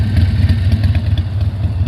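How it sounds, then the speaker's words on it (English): Harley-Davidson Sportster 1200 Custom motorcycle idling, stock exhaust with the baffles removed, giving a loud, close, steady low rumble with a lumpy pulsing beat throughout. "It could be stock exhaust, but with the baffles removed. But it sounds really great."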